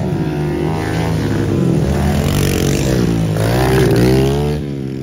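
A pit bike engine revs steadily and loudly on a dirt track, its rising and falling harmonic whine holding close and continuous for about five seconds with no voices.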